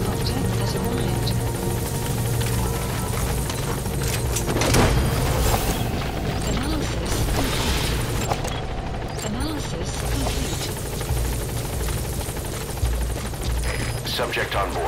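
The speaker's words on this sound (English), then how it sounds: "Support helicopter has arrived." A helicopter's rotor chop and engine whine fill the scene close by, mixed with booms, gunfire and radio-style voices talking throughout, as a support helicopter arrives at a landing zone in the video game Metal Gear Solid V: The Phantom Pain.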